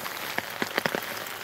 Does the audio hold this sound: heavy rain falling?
yes